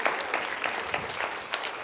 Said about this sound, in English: Can we please give these fine gentlemen a round of applause?